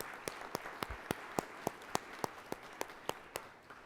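Quiet, evenly spaced claps at a business forum honoring sponsors, a steady rhythmic patter of hands with sharp individual smacks, faint and somewhat distant, fading slightly at the end.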